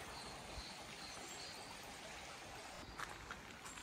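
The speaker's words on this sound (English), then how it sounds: "that's a creek." A creek beside an old mill on the outskirts of Bristol flows with a steady, faint broadband rush and trickle, continuous and distant-sounding, with no talk over it.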